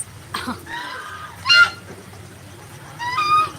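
Ducks left outside during a rainstorm give a few loud, honking quacks in short bursts near the start, middle and end, over a steady low patter of rain.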